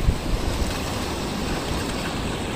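Waterfall water near Kalga rushes in a dense, continuous roar, loud and close with wind-like buffeting at the start and no voices.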